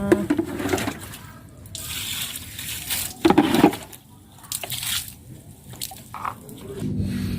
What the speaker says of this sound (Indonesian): siram rata.